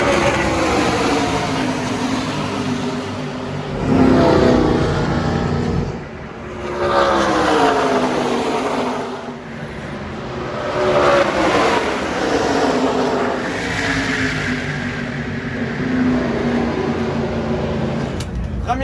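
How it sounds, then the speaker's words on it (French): Race car circling Daytona International Speedway, its engine droning and rising in waves as it passes, with a commentator's voice running continuously over it. "Raphaël fera ses premiers tours sur le mythique circuit de Daytona International Speedway."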